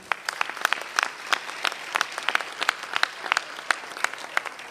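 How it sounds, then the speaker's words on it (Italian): Steady applause from an audience at an Italian mayoral campaign rally, many hands clapping close together in a continuous, lively patter. "per tutti vi chiedo un applauso Argento Morena,"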